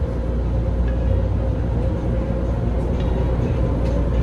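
Las Vegas monorail train riding, a steady low rumble of wheels and cabin noise sustained throughout, close and fairly loud, with faint chatter in the background.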